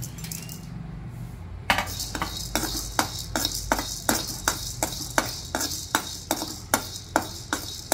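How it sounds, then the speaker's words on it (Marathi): Black pepper dry-roasting in a pan over a medium flame gives a steady run of sharp, rhythmic scraping and rattling strokes as it is stirred, close and fairly loud, after a quieter start. "आता काळी मिरी, हे थोडे भाजून घ्यायचे।"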